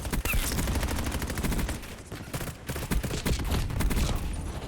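Rapid automatic rifle fire from an M15 in the video game Black Ops 7, dense overlapping bursts running almost continuously, loud and close, with one brief lull midway.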